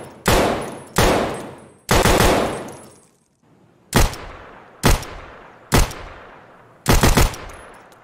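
Several sharp, loud FN pistol shots ring out in the game Escape from Tarkov, some single and some in quick pairs, with an irregular rhythm and each shot followed by a decaying echo.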